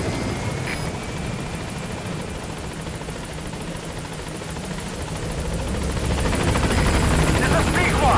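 Pequod, the transport helicopter in Metal Gear Solid V, arriving at a landing zone with a loud, steady rotor thrum and engine roar that swells as it nears, with radio voices over it.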